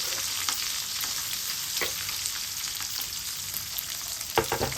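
Green chillies and onion sizzle steadily in hot oil as a tempering for brinjal fry, a dense continuous frying hiss close by with a few soft stirring scrapes, no voices.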